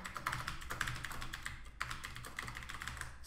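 Quick, irregular clicks of keys on a computer keyboard while Python code is entered, close and fairly quiet, with a short pause partway through.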